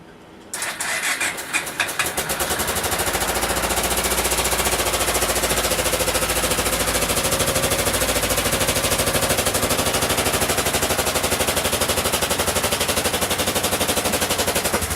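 A 1995 Kawasaki Bayou 400 ATV engine cranks and fires up after sitting a long time, then runs loud and close with a rapid, steady, rattling idle.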